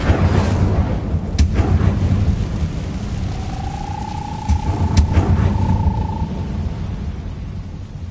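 Incendio fire spell cast in Hogwarts Legacy, a loud rumbling, roaring whoosh with a couple of sharp cracks and a faint sustained tone, continuous and close, with no talk.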